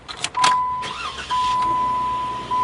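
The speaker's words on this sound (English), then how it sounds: "We're going to shut the car off, make sure that the radio shuts off." A car switched off during a car radio installation test: a few short clunks and clicks, then a steady close hum with a thin electronic tone that drops out and returns, no talking.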